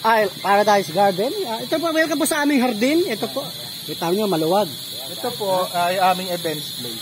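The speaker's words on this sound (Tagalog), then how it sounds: "Ngayon lang uli ako nakarinig ng kuliglig" Crickets chirp steadily in a garden events place at a resort, a continuous high insect drone running under a voice as he speaks throughout.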